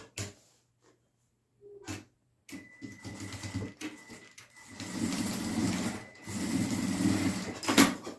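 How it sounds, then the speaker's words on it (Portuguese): Sewing machine stitching a short reinforcement seam on a crossbody bag, with sparse clicks and handling at first, then a steady mechanical whir in two sustained runs separated by a brief pause, close and moderately quiet. "Sempre faz uma costurinha de reforço."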